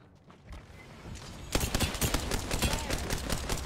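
Video game gunfire in a squad firefight, quiet shuffling at first, then a sudden burst of rapid automatic shots that keeps going, loud and close.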